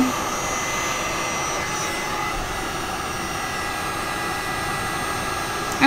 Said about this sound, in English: So hit it with a heat gun till it's completely dry.